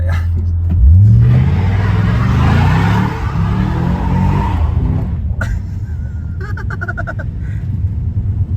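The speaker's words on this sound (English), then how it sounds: "Last 5-digit burnout." A Holden Senator HSV with an LS1 V8 roars through a loud, sustained burnout, its engine revving high for a few seconds before easing back to a rough, rumbling idle, close up with no talking.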